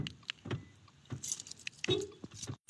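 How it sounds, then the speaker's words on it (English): Someone locks a car from inside the back seat, where they are settling in to sleep: a few sharp mechanical clicks and clunks with a light jangle, close and fairly quiet, spaced across a short stretch with no talking. "Now I lock my car so nobody can get me."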